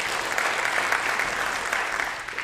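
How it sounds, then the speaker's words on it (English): Brief burst of audience applause at a weight loss challenge event, a dense wash of clapping that holds steady for a couple of seconds. "round of applause for Dave"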